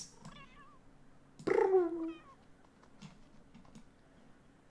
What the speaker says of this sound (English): there's a cat